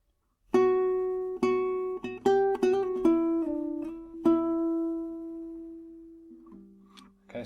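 Clean guitar playing a short passage from a guitar solo, a quick run of plucked notes with hammer-ons and pull-offs settling into one long ringing note that fades, heard alone and close.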